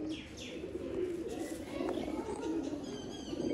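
Pigeons coo in soft, repeated throaty calls close by, with light chirps and a brief wing flutter mixed in over a low background hum.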